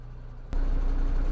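A Husky 2G vehicle engine idles with the transmission in neutral, a low steady rumble that steps up in level partway through and holds an even hum, with no talking.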